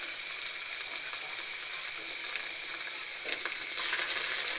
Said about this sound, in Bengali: পেঁয়াজটাকে একটু লাল করে নেব।